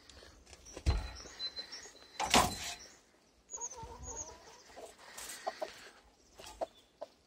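Japanese Silkie chickens cluck softly nearby in short irregular bursts, mixed with scuffling and a couple of louder rustling knocks.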